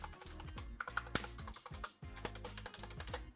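Clattery keystrokes on an HP Omen Encoder full-size mechanical keyboard with a flat aluminum deck, including the shift key's stabilizer, fast and irregular typing heard up close with no talk.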